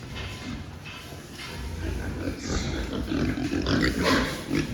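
Around thirty fattening pigs on a farm grunt and shuffle near a feeder, a low rough murmur that grows louder over time, with no clear speech.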